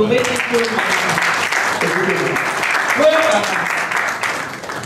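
A church congregation claps steadily and loudly throughout, a dense sustained applause with voices singing or calling out over it.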